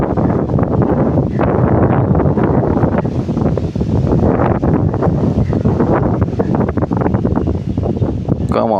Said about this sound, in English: Wow, what a cool air. Amazing breeze.